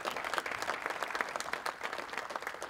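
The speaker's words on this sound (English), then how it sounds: "Let's give them a round of applause as well." Audience applause from a conference crowd, a steady dense patter of many hands clapping at moderate distance, fairly faint and sustained throughout without talk.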